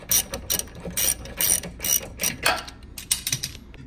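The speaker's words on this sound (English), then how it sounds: "Using a 21 millimeter, go ahead and remove the front body mount bolts." A ratchet wrench with a 21 millimeter socket loosens body mount bolts on a Colorado ZR2 pickup, giving close, loud bursts of rapid clicking in a steady back-and-forth rhythm, about eight strokes with brief pauses between them.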